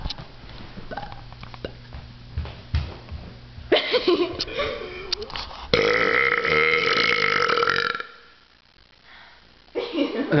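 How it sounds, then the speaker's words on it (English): Loud, long burps after drinking soda, several rough belches in a row with sniffs and mouth noises between, the last stretched and gurgling, in a burping contest. "No one's gonna top my burps."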